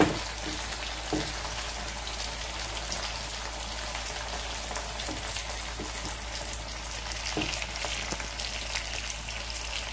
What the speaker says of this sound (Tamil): நல்ல எண்ணெயில் நல்லா வேகணும், அப்போ தான் நமக்கு சாப்பிடும்போது கத்திரிக்காயும் நல்லா டேஸ்டாக இருக்கும்.